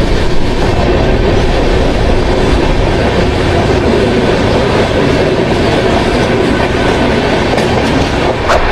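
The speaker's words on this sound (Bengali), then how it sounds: "বালেশ্বর থেকে ট্রেন দেখো কি হারে ছুটছে" A train speeding out of Balasore at around 130 km/h, a loud continuous rushing roar with rapid wheel clatter on the rails, heard from inside the moving carriage.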